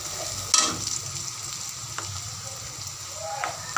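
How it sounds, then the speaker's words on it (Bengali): Onion frying in a pan for a fish-head curry, a continuous close sizzle with occasional stirring scrapes and clinks. "এখন মোটামুটি পেঁয়াজটা ভাজা হয়ে গেছে।"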